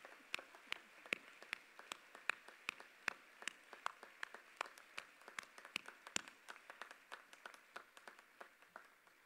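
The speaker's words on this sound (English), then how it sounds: "let's join in applause, thanking all of these for their investment" Audience applause at the Erskine College and Theological Seminary 2022 commencement, with a sparse, steady patter of individual claps that sounds somewhat distant and faint.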